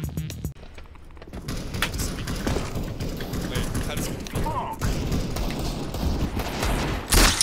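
Gunfire in a shooting video game, with bursts of shots and thuds running steadily through the scene while players talk excitedly over it.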